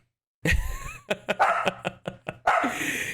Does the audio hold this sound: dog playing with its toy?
yes